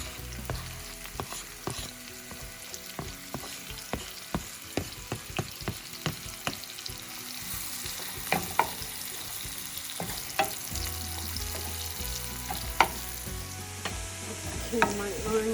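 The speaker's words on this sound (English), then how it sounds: "I'm gonna be putting it in the fryer pan, and just fry the half an onion." Half an onion fries in oil in a frying pan, giving a steady close sizzle with scattered crackles and pops throughout and no voices.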